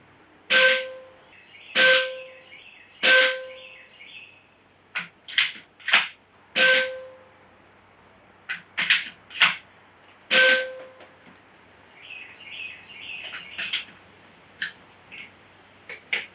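AEA Challenger Bullpup PCP air rifle, a 24 backyard-friendly model, firing a five-shot group: sharp, fairly loud cracks spaced a second or so apart with ringing tails, then a few lighter clicks and clatters as the rifle is cycled.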